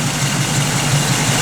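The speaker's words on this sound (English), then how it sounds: "You can hear that cam working though." Idling 1968 Chevrolet Camaro V8 with a lumpy performance cam, loud and close, a continuous rough low rumble with an uneven pulsing beat.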